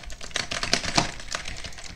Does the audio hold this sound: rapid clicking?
yes